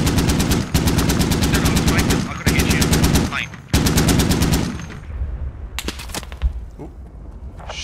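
Gunfire in the military shooter game Squad: long, rapid automatic bursts of machine-gun fire, loud and close, broken by short pauses. It is followed by scattered single shots further off.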